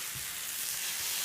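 Hash browns fry in a hot pan with a steady, close hiss and fine crackle, even and unbroken throughout, no voices.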